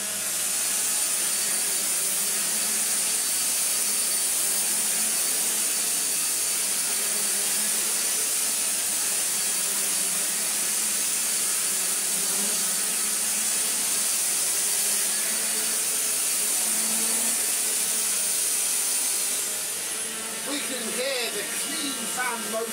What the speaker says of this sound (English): you can hear the brush roll the most. And if we go up to the higher setting,